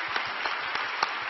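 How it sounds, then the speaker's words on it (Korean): Brief applause from a church congregation during a worship service, a quiet, even patter of clapping with a few sharper claps standing out. "우리 다시 한번 하나님께 감사의 박수 올려드리시겠습니다"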